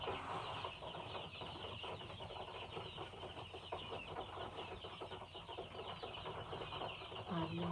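Adler breed chickens clucking in a steady, busy stream over a constant background hum, with soft clucks and occasional wing sounds scattered throughout.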